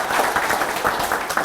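An audience at a talk gives a short round of clapping, heard as soft, fairly sparse claps under a steady roomy wash.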